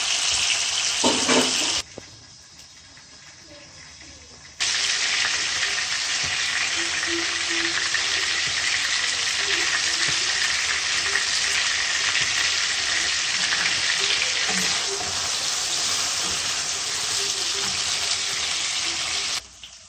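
Garlic and ginger purée fries in a pan with a loud, steady, broad sizzle that continues almost throughout, briefly dropping for a couple of seconds near the start before resuming at full strength.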